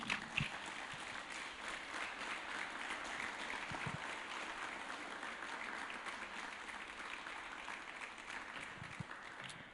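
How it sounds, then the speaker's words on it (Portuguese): Church congregation applauding during a Sunday worship service, steady dense clapping heard from a distance at low level, continuing evenly without a break. "Uma salva de palmas para Jesus."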